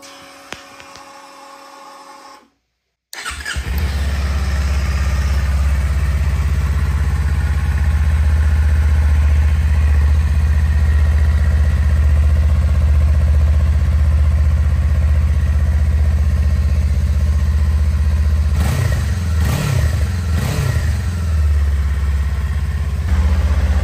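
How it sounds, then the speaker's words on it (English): A 2024 Kawasaki Eliminator motorcycle fires up after a short pause and runs at a steady, smooth, loud idle up close, with a couple of quick throttle blips near the end. "it also has the smoothest sounding exhaust"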